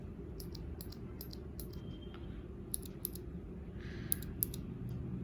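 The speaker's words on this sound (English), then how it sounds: "I bought blue switches because like I like the clicky sound" Clicky blue switches on a Redragon K551 mechanical gaming keyboard, heard as sparse, sharp key clicks in short bursts and single taps over a steady low background hum, fairly quiet and close.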